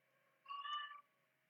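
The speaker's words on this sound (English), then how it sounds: "You hear the cats." A single domestic cat meows once indoors at home, a short, fairly faint call of about half a second standing out over quiet room noise.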